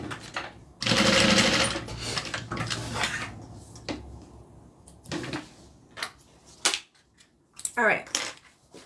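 A sewing machine stitches shoulder strap connectors onto a Becca bag in a loud continuous burst early on, followed by shorter runs, clacks and handling knocks with pauses between.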